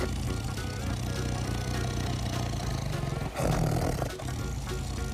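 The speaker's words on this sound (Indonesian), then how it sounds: "Wow, ini ada harimau putih." A white tiger roars loudly and continuously, a deep throaty sound with a brief dip partway through before it surges again, heard alone without speech.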